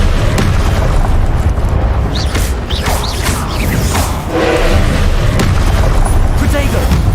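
Spell blasts from Confringo and Incendio in Hogwarts Legacy burst in a dense, loud run of booming explosions and fiery whooshes, layered with game effects and combat noise throughout.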